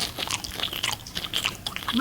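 Popeyes fried pickles are bitten with crisp, crunchy snaps and chewing, heard close-up while people keep talking over it.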